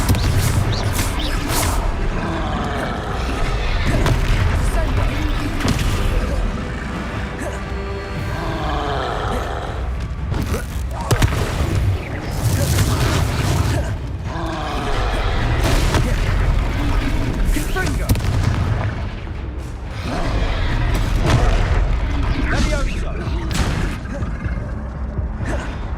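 Booming spell explosions from Confringo casts in the Hogwarts Legacy video game, repeated deep blasts over roaring combat noise and creature grunts during a fight, loud and continuous throughout.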